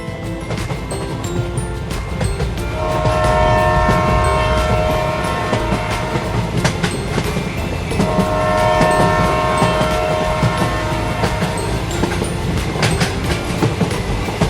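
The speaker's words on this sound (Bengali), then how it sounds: "ট্রেন আসলো।" A train rolls into a station, its rumbling wheels and rail clatter filling the scene at close range, with two sustained horn blasts sounding over the steady din.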